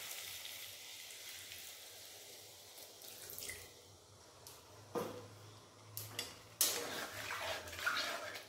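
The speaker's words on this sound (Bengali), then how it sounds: "তেল ছেড়ে দিয়েছে, আমি এর মধ্যে হালকা করে জল দেব।" Water is poured into a pan of pointed gourd frying in mustard oil, giving faint splashing and hissing, followed by a few sharp clanks of cookware in a quiet kitchen.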